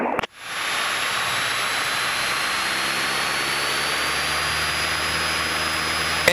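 Cessna 152 engine at full power on the takeoff roll at Portimao Aerodrome, a steady loud drone with rising pitch heard from the cockpit after a brief click at the start.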